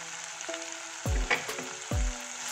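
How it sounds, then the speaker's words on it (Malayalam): Canned tuna thoran with garlic paste sautéing in a pan, a steady close sizzle broken by a couple of louder scraping stirs, with no voices. "ഇത് നന്നായിട്ടൊന്ന് വഴറ്റി ഡ്രൈ ആകുന്നത് വരെ നമുക്കൊന്ന് വഴറ്റി കൊടുക്കാം."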